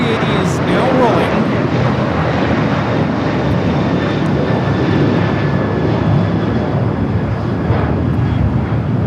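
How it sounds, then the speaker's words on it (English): An Asiana Airlines Airbus A380 takes off from Los Angeles airport bound for Seoul with a loud, continuous jet roar at full power, steady and close, while someone talks over it. "This is Asiana Airlines Flight 201 taking off to Seoul on the A380."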